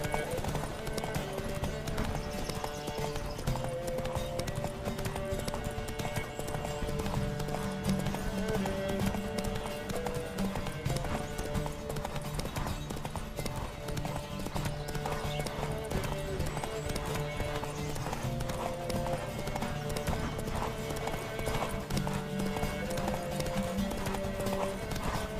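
Rapid rhythmic hoofbeats of a galloping horse in The Witcher 3: Wild Hunt pound on continuously, mixed with steady game music and ambient noise, with no pause throughout.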